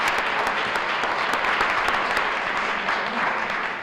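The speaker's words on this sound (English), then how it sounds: "give each and every one of yourselves a round of applause" Audience at an International Women's Day celebration gives a sustained round of applause, dense steady clapping from many hands, moderately loud and tapering slightly at the end.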